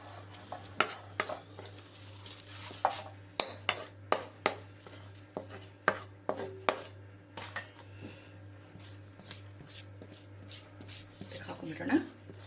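Roasted coconut stirred with curry leaves in a pan, a run of sharp scraping clinks of a spoon against the pan in an irregular rhythm, close by, with a faint background hum and a voice speaking at moments.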